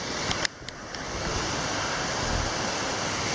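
Steady roar of rushing water from a set of waterfalls at a rocky swimming spot in the Georgia woods, a continuous broadband wash with a couple of faint brief knocks near the start and no talking.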